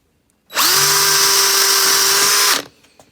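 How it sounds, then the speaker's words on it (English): A power drill spins up and bores steadily through aluminium for about two seconds, loud and close, then winds down into quiet. "at least aluminium is nice and easy to work with for drilling and cutting."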